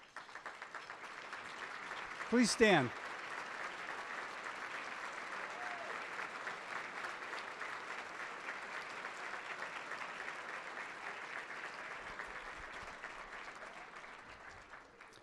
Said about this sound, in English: please stand and let's all give them a round of applause